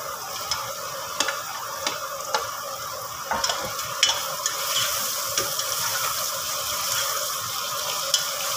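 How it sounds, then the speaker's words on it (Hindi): Vegetables frying in a pressure cooker while being stirred, giving a steady sizzle with regular scraping clicks from the utensil through the whole clip. "सब्जी की बुनाई इसमें 3-4 मिनट तक हमने कर देना है।"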